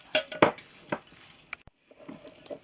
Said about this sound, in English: You want to make sure that the oats is mixed well with the bananas.